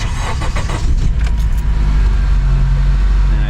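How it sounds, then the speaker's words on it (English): A Honda CR-V engine, 2015–2019 model after a valve cover gasket replacement, cranks and catches, then settles into a steady close idle. "Now we can go ahead and start it up."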